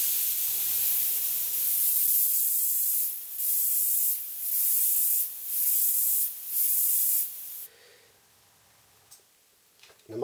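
A double action airbrush sprays water in short bursts, a bright hissing spray that starts and stops about five times in a steady rhythm, then falls quiet.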